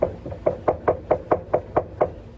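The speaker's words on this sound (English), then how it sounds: "So they also hear wood knocking." Ten sharp knocks on wood, evenly spaced in a steady, fairly quick rhythm, close and clear with nothing else around them.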